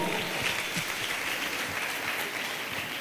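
Audience applause fills a hall at a Young Entrepreneurs Ignite Program event at MMUST as Bishop Dr. Fred Akama is welcomed onto the stage; steady, dense clapping holds at an even level for about three seconds.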